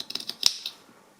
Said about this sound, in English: So like from this cheap Chinese normal cutting thread nippers